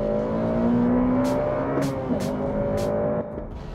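A cheap hot hatch car accelerates hard around a race track, its engine note droning and rising steadily from inside the cabin, with brief clicks and thumps before the sound drops near the end.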